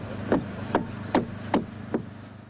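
Five evenly spaced hammer blows on formwork being filled with ultra-high-performance fibre-reinforced concrete, each a short dull knock at a steady rhythm, moderately close and alone.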